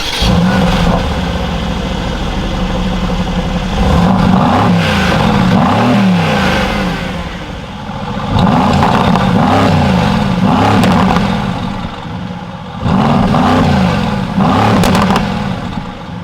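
A 2016 Mercedes-Benz AMG GT S engine fires up and settles into a loud, close idle, then is blipped in three separate swelling revs, each rising and dropping back before the next.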